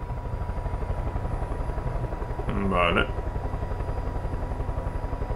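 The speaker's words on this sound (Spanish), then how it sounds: "¿Y no están viendo que hay un helicóptero aquí arriba esperándolos?" A helicopter in the video game Far Cry 5 hovers overhead, its rotor drone swelling briefly louder mid-clip above a steady low mechanical hum, while a voice speaks a single short word.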